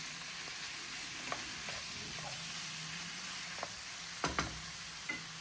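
Onions frying in butter alongside beef in a casserole pot give a quiet, steady sizzle with a few soft stirring clicks and scrapes.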